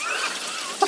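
Hail from a hailstorm in Hemet falling steadily outdoors, a dense continuous patter and hiss of pellets striking surfaces, even and fairly loud with one sharper tick near the end.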